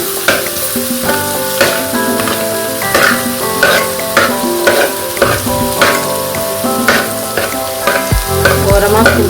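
Sautéed vegetables for egg fried rice stirred and pushed aside in a hot pan: loud, close sizzling with repeated rhythmic scraping strokes of a spatula against the metal, steady throughout without talk.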